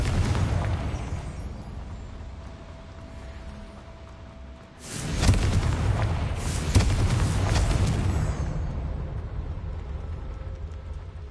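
A Confringo fire spell explodes in Hogwarts Legacy, a sudden loud blast that breaks into a long roaring, crackling rumble over steady background noise, with no talk.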